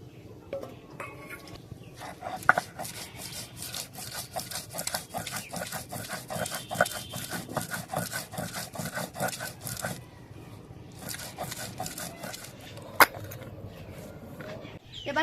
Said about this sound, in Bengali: এবার কিছুটা পরিমাণ নারকেল বেটে নেব।